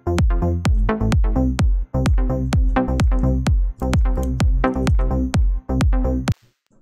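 A punchy synth bassline programmed in Ableton plays a steady run of short, plucky notes with a bright repeating high tick on top, loud and continuous for about six seconds before stopping abruptly.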